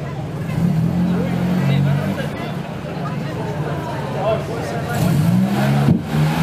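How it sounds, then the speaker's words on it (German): A vintage Rolls-Royce engine rumbles and revs at an oldtimer parade in Essen Rüttenscheid, a steady low drone running under continuous crowd chatter and nearby talking voices. "Auch hier wiederum ein wunderschöner Rolls-Royce."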